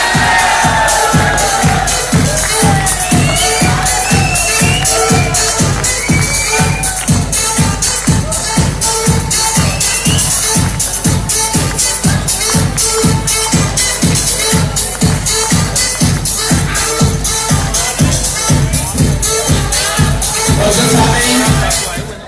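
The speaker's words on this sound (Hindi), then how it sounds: "इन मौजूद हस्तियों के लिए तमाम हॉल खड़ा होकर अगर क्लैपिंग कर दे तो बहुत होता है।" A large awards-ceremony audience in a hall claps steadily and loudly for over twenty seconds, dense rhythmic applause with a few cheers mixed into the crowd noise.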